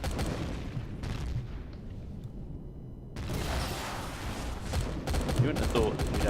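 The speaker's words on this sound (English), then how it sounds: "I'm hearing shots bouncing off my hull here" Gunfire shots striking a starfighter hull in a space combat game, a dense rattling barrage of impacts that drops away briefly and then returns, with speech mixed in.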